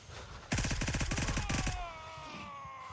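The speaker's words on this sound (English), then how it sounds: "That's a mag dump." A rapid full-auto rifle magazine dump in Gray Zone Warfare, a loud close burst of evenly spaced shots lasting just over a second, then a ringing echoing tail fading into quiet ambience.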